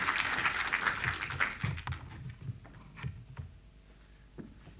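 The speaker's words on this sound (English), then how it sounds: "please give a very warm and hearty applause for Denis Shabalin." An audience applauds a speaker at a programming talk. The clapping is fairly faint and continuous for about two seconds, then thins out into a few scattered taps and quiet room noise.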